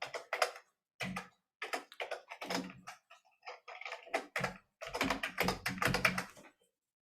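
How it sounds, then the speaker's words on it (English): Rapid clicking of a computer keyboard as stock tickers are typed, bursts of keystrokes close to the microphone separated by short pauses, no talking. "I'm typing in tickers that you folks are typing in"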